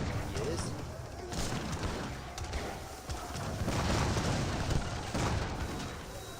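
Cannons booming in an Age of Empires 3 battle, with repeated heavy shots and crashes layered over a busy clash of units while a commentator talks throughout.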